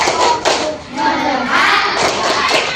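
Elementary classroom of fifth graders clapping a chant pattern, a few sharp hand claps and thumps ringing out close and loud amid murmuring children's voices.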